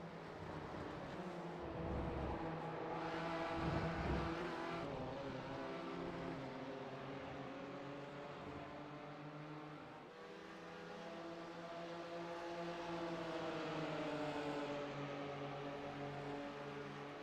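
Engines of GT4 and TCR race cars roar continuously in a sim racing game on the Daytona road course, with several cars running close together and overlapping engine tones rising and falling.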